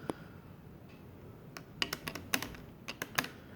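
A metal credit card tapped against a hard surface gives a quiet series of sharp, bright clicks, sparse at first and then coming in quick uneven bursts.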